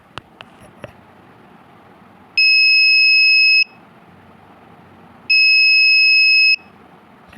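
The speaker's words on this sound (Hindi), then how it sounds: "आपको बजर का साउंड सुन रहा होगा" Piezo buzzer on an Arduino IR sensor project gives two loud, steady electronic tones, each about a second long and separated by a short pause, with a few faint clicks before them and no speech.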